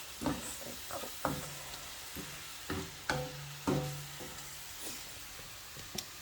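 Vegetables and prawns stir-frying in a pan, with a steady soft sizzle and intermittent sharp clatters and scrapes as the food is tossed and stirred, close by and with no talking.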